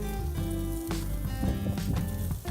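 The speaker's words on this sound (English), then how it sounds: "place the pork chop directly on the grill for 8 minutes, and close the grill" Thick-cut pork chop cooking on a closed grill at about 350 degrees, steady crackling sizzle with scattered pops and a low hum underneath, close and continuous.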